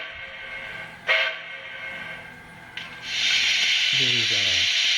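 A DCC sound chip in a model steam locomotive gives a short, low whistle toot near the end, over steady hiss and a couple of sharp clicks.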